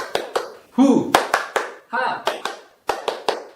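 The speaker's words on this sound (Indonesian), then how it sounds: "Nah, sekarang tepuk semangatnya berbeda." Group of women doing a rhythmic clapping cheer during a handwashing-themed training session in Sumenep, East Java; sharp claps in quick patterned bursts alternate with rubbing sounds and a shouted syllable, with a voice leading between them.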